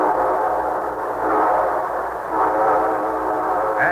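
A train horn blows in long, sustained tones over the steady rumble of rolling railcars, loud and close throughout.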